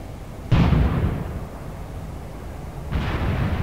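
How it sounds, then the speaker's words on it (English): Two mortar explosions in Graviteam Tactics: Mius Front, a war strategy game, land a couple of seconds apart, each a loud deep boom followed by a long rumbling decay. "they don't know exactly where the mortars are coming from"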